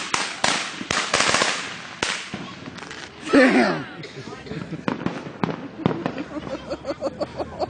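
Fireworks and firecrackers at a firework show, with a run of sharp cracking bangs, some loud and close, others lighter, plus a fizzing whistle in the middle, mixed with people talking and exclaiming.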